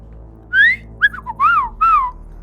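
A voice imitates a droid's scared, confused beeps with four quick whistled chirps that rise and fall in pitch, close and clear against a quiet background.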